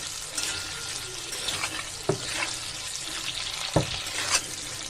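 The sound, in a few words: squash pieces added to a cooking pan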